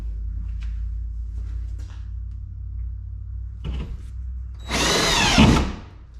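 A DeWalt drywall screw gun drives a screw into drywall in one short, loud whirring burst after quiet handling noises over a low background hum.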